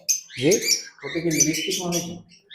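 A breeding pair of peach-faced green lovebirds calls close by in shrill, rapid chirps and chattering bursts, with someone talking over them.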